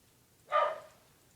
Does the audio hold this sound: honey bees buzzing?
no